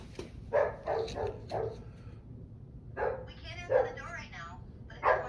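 A dog barks in a series of short, close yips, with a high whining whimper between bursts.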